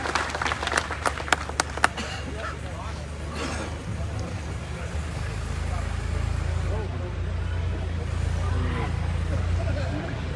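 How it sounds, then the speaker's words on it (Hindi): A rally crowd claps briefly with a burst of sharp claps at the start, then the sound gives way to a loud low rumble of engine-like noise and a voice speaking over a public address. "जोरदार तालियों से स्वागत सत्यवीर जी का"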